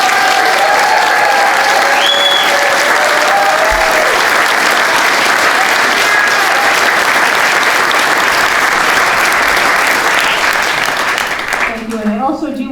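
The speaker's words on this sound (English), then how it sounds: "I just want us to give them a round of applause for all their hard work." An audience at a Vermont press conference on repealing the Clean Heat Standard applauds Republican legislators. The clapping is loud and sustained for about twelve seconds, then thins and tails off at the end.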